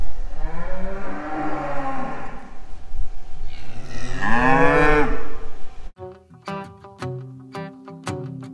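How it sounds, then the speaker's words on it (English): Dairy cows on a milk farm moo loudly and close by, two long drawn-out calls filling the first six seconds, followed by a different, sparser patterned sound with sharp tonal strikes. "Come on, cows."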